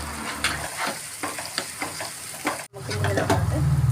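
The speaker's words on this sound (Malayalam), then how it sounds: "നമുക്ക് സവാള ഒന്ന് നല്ലോണം ഇളക്കി കൊടുക്കുക" Chopped onions with salt are stirred and sautéed in a pan, a crackling sizzle broken by repeated scraping strokes of a spatula, with a brief drop to near silence before frying resumes louder.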